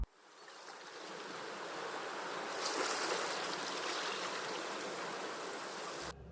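Waves wash onto Achininver Beach in the far north of Scotland, a broad continuous roar of surf that swells gradually and stays steady, with no voices.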